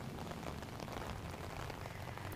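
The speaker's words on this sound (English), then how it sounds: "The winds and rain are definitely picking up out here" Heavy rain and wind from Tropical Storm Debby, a dense steady broadband wash of rainfall close by with no letup over a brief stretch, no speech.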